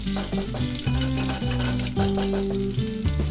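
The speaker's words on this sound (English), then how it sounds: "in a hot pan add oil. Add half tablespoon mustard seeds and fry this for about few seconds" Mustard seeds fry in hot oil in a pan, a continuous bright sizzle with crackling pops, layered under steady background music throughout.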